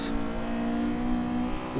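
Honda car engine revving hard in a racing video game, a steady loud droning tone held throughout with a brief bright burst at the start.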